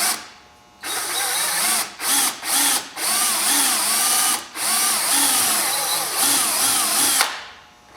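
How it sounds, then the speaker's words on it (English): A power drill whirs loudly in several bursts, drilling holes in the grille of a Polaris Ranger 900 off-road vehicle, briefly stopping and restarting between them, then running steadily before winding down. "Ready to drill this out."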